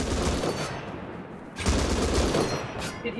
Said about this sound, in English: M249!